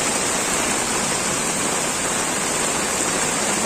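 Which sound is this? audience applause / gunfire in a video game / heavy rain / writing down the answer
heavy rain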